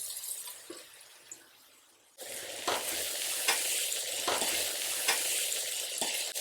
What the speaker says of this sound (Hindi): अब हम इसमें डालेंगे ब्रेड